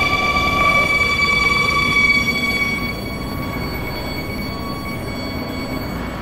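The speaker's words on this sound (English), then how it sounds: "This is a Krypton-bound 7 train." An R220 express subway train on a 7 line in a Roblox game runs with a rumbling rail roar and high whining tones, growing slightly quieter partway through.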